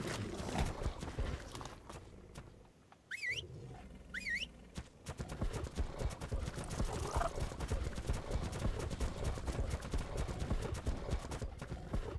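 A horse being tamed in the video game ARK gives a quick, steady clip-clop of hooves, broken early by a couple of short rising chirpy tones, with no one speaking.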